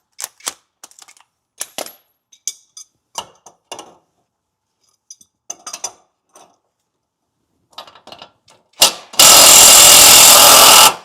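A battery impact wrench hammers at a seized bolt in one loud, continuous rattling burst near the end, preceded by scattered clanks and handling noises.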